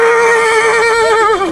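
A horse at the Özgön horse market lets out a loud, close whinny lasting about a second and a half, its pitch wavering and sliding downward at the end.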